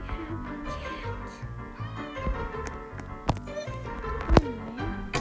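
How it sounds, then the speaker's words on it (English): A cat meows in the Roblox Cook Burgers cooking game, a short rising-and-falling cry near the end, over steady looping game music and busy kitchen effects. "I have a cat."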